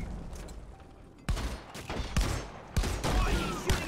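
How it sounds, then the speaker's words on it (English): Rapid game gunfire from the video game Deep Rock Galactic, loud bursts of shots in several clusters over a quiet background, with no talk. "Why are you shooting at me, you slack-jawed dimwit?"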